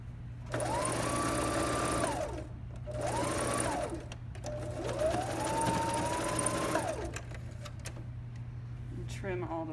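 A serger sewing machine stitches a sweatshirt in three bursts of fast whirring, each rising and holding a steady pitch before winding down, over a constant low hum, with pauses between runs.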